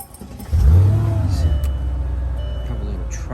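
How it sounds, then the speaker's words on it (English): A car engine cranks and catches after a junkyard sensor replacement, a loud low rumble surging as it fires, then settling into a steady close idle. "then we can turn the car on"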